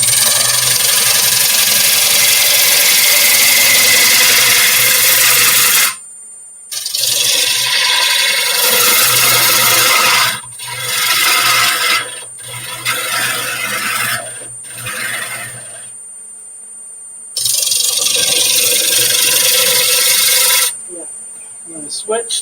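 Wood lathe spinning while a bowl gouge cuts a turned bowl, giving loud rasping scrapes in several long passes separated by short quiet gaps as the tool lifts off, with a steady motor hum underneath.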